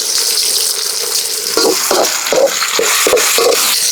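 Tomatoes sauté for crab masala, a bright continuous sizzle close by with a run of regular scraping knocks from a spoon stirring the pan in the second half, no talk.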